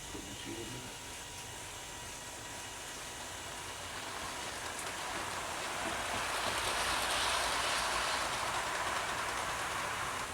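A Hornby model locomotive numbered 4469 runs with ex-LNER coaches on a model railway, giving a steady, faint mechanical whirr and rolling rumble that swells slowly as the train comes closer.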